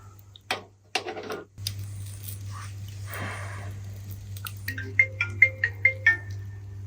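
After some rustling and handling noise, a phone ringtone sounds as a run of short, bright beeps, fairly close.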